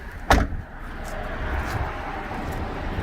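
Rear liftgate of a 2015 Subaru Forester 2.5i Premium swinging shut with a single solid slam, followed by a brief rattle over steady outdoor background hum.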